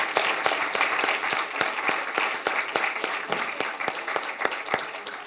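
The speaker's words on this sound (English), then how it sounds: "let's give them a hand of applause." A conference crowd at a political analytics hackathon presentation gives steady applause. Many distinct hand claps stand out over a dense, continuous clapping wash for several seconds.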